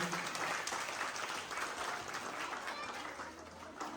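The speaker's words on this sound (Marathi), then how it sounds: "एकदा हात वरती करून जोरात टाळ्या वाजवायच्या सगळ्यांनी" A large audience at a Haldi-Kunku women's gathering claps with raised hands, producing loud, continuous, dense applause that holds steady throughout.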